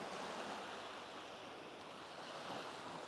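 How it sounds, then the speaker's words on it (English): Ocean surf rolls onto a beach at Pran Buri National Forest Park in Thailand, a steady broad wash of waves with some wind noise, soft and continuous throughout. "hear the waves rolling in"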